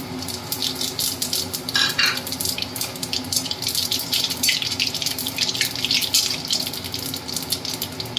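White cumin seeds sizzle in hot oil, added after crushed garam masala while a katla fish kalia is being cooked: a close, continuous frying hiss with bursts of crackling and no talk.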